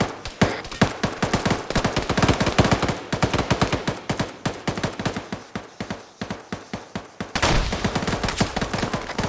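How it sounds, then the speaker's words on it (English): Rapid bursts of gunfire during a training exercise, loud and close, with sharp shots fired in fast repeated volleys and a brief dense burst near the end, no talk over it. "And shooting."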